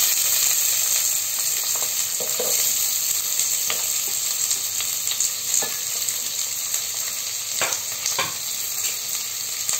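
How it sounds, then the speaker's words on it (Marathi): Chopped onion sizzles in hot oil for egg biryani, a steady bright hiss with faint clinks of stirring throughout. No voices are heard. "आता आपण यात कांदा टाकूया, गरम झालेला आहे तेल।"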